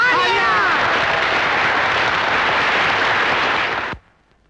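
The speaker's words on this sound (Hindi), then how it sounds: "तालियां।" A film audience claps in a steady, dense roar of applause that holds for about four seconds, then cuts off abruptly into near silence.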